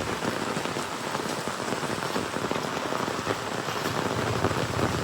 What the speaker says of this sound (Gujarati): કેવો વરસાદ છે ભાઈ કેવો વરસાદ છે ખતરનાક વરસાદ છે